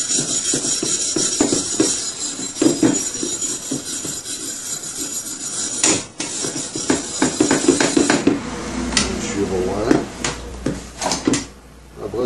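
A steel wire brush scrubs a rusted steel plate cleaned by electrolysis, producing irregular close scraping strokes and knocks with brief pauses between passes.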